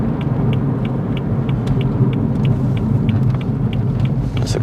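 A car driving on a road in the Waikato region of New Zealand, its steady engine rumble and road noise continuous and close throughout, with no talk.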